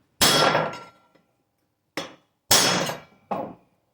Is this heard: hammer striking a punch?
yes